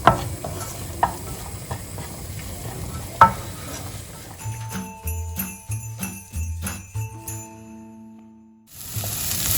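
Vegetables being sautéed in a pan for coconut vegetable jollof rice: soft stirring and sizzling at first, then a run of bright metallic tinkles and clinks, close and fairly loud, with no talking.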